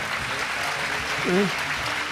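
Audience at a Gujarati spiritual gathering breaking into brief, dense applause, a short burst of clapping with a voice heard briefly over it.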